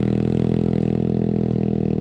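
Enduro motorcycle engine labouring in first gear, a steady loud drone with heavy low harmonics and faint clatter, held at constant revs throughout without pauses.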